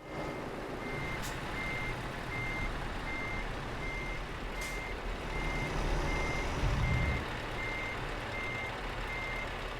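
A truck in a trucking video game reverses, its backup alarm beeping in a steady, evenly spaced rhythm over a low engine rumble, with a brief air-brake hiss partway through.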